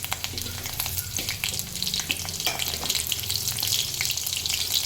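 Cumin seeds and two slit green chillies sizzling in hot oil in a pan for a garlic fenugreek dish, a loud continuous frying crackle and hiss throughout, close up, with no talk.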